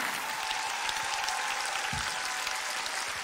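Audience applause at a Romanian folk music concert honoring a singer, a steady dense wash of clapping from a crowd, moderately loud and continuous, with no talking over it.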